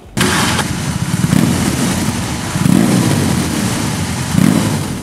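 A BMW R18 cruiser motorcycle's big flat-twin engine runs close by, a loud steady rumble with three periodic throttle swells.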